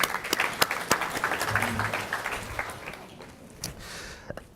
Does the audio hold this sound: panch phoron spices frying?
no